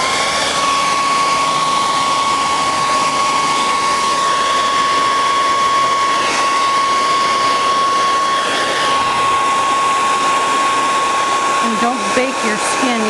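A hair dryer runs continuously at close range, blowing hot air over a heat-seal stencil on an uneven surface, a loud, steady whine that holds throughout.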